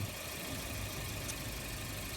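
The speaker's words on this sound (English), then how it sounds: "The engine sounds pretty good to me." A Volvo 740 GLE engine idles after a tune-up, giving a steady, even mechanical hum with a low throb. It runs quietly and continuously, with no talk over it.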